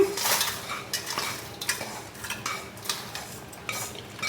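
Rava laddu mixture being scraped and spooned from a pan onto a plate, with repeated close metallic scrapes and clinks of a spoon against cookware in an uneven rhythm, no voices.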